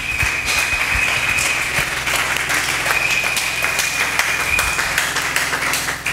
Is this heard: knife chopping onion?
no